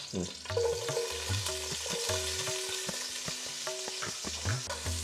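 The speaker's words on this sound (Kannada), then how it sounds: "ಇವಾಗ ಇದು ಫ್ರೈ ಆಗ್ತಾ ಇದೆ" Chopped capsicum frying in peanut oil with popped mustard seeds for bisibele bath, a loud continuous sizzle with repeated rhythmic spatula scrapes and stirring clatter throughout.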